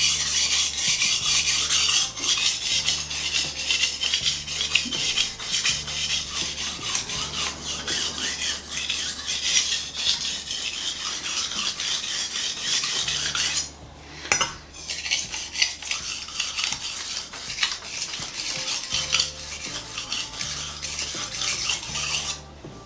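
A knife blade rasped back and forth across a whetstone in steady, rhythmic gritty strokes, close and loud, with one brief pause partway through before the strokes resume.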